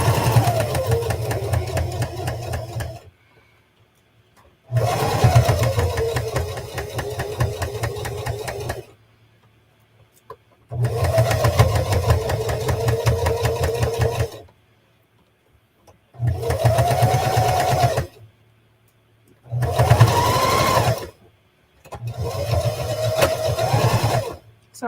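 A sewing machine stitches a Lolita headpiece in six bursts of steady whirring, each several seconds long and loud and close, with short quiet gaps between them.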